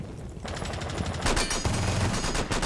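Pistol gunfire in the Rainbow Six Siege video game: a quick string of sharp shots, then a louder, denser burst of rapid reports, close and punchy with no talk over it.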